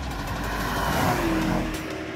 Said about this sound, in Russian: Вот с пробуксовкой в этот раз стартанул наконец-то Mercedes.